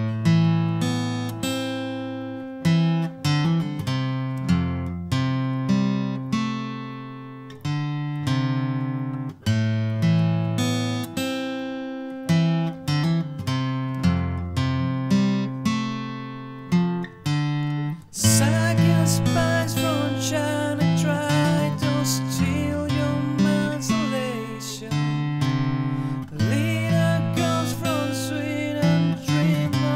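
Acoustic guitar slowly plays a song's intro and first verse, with picked arpeggiated chords ringing steadily and loud alone, growing denser and brighter with strummed strings in the second half.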